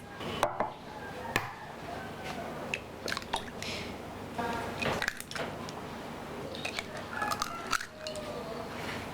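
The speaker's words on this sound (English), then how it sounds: "let's break the eggs" Eggs are cracked for crepe batter, with several sharp taps and cracks spread out amid quiet kitchen clatter.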